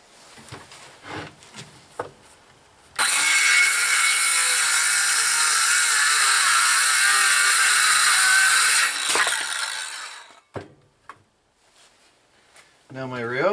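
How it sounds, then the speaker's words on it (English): Ryobi power saw cutting through a 1-inch wooden board, a loud, steady whining cut lasting about six seconds, preceded and followed by quieter handling clatter and brief bumps. "Now my Ryobi is doing pretty decent on these 1-inch boards"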